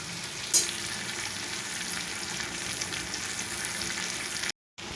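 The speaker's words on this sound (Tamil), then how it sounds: "பாருங்கள் கருணக்கிழங்கு இந்த அளவுக்கு நல்லா வருந்துருக்கு" Elephant foot yam (karunai kizhangu) pieces frying in a pan, a steady close sizzle with a small clatter near the start, ending in a brief dropout.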